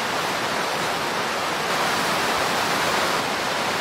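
A roaring waterfall in the VR fishing game Catch & Release, a loud, dense, unbroken rush of falling water filling the whole scene.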